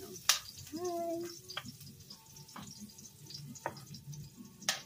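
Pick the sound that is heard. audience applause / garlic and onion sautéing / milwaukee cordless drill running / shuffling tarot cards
garlic and onion sautéing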